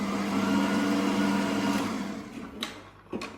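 An electric mixer whirs steadily through dark chocolate orange brownie batter, loud and continuous, then winds down with a couple of brief clinks near the end.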